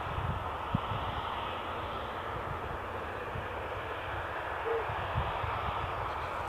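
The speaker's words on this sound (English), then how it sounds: "Ryanair 737 off to Warsaw, about to depart." A Ryanair Boeing 737 taxis to depart at Bristol Airport, its jet engines giving a steady, moderately distant drone and whine that stays even throughout, with no talking.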